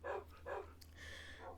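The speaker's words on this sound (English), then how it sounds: "These are my dogs." Dogs barking in a Minecraft server, game-style short barks repeated about three times in quick succession with a steady low hum underneath and no talking.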